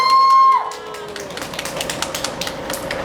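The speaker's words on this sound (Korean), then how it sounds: "말씀해주신 조 의원님께 큰 박수 한번 부탁드리겠습니다." Crowd applause for a council member at a press conference opposing the Gurye pumped-storage dam, scattered clapping rising after a brief tone and continuing steadily.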